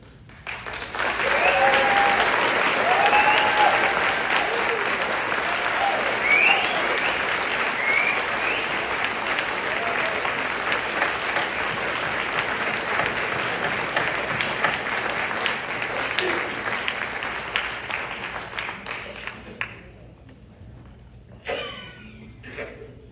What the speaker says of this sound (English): Let's have our judges, presenters join the finalists on stage to receive a big round of applause one last time.